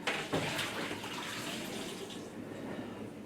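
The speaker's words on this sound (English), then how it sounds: "I want to get my colander out so that I can rinse my potatoes one more time" Potatoes being rinsed in a colander under a running kitchen tap, a steady close wash of flowing, splashing water with no talking.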